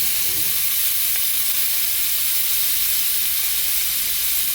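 Butter sizzling in a hot pan over low heat while filet mignon sears, a steady close hiss with broad crackle holding even throughout, no voices.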